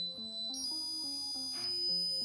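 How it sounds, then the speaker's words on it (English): A piezo buzzer driven by an Arduino through a PCB plays a quick sequence of stepped electronic beeps, shifting pitch every half second or so, clear and fairly close, with no talk. "Piezo buzzer connected through the PCB to the Arduino through these 4 wires."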